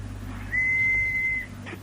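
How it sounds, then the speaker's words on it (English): A police constable gives one steady, shrill blast on a whistle lasting about a second, over a low background hum in a radio drama. "All right, Constable. Blow your whistle."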